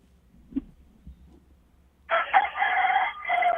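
A rooster crows from a house with roosters, one long, fairly loud cock-a-doodle-doo in the second half that follows a couple of faint soft knocks and a quiet stretch.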